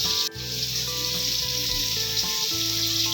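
Fish frying in hot oil, an even, close sizzle running throughout with a low hum and a brief clatter near the start; no voices.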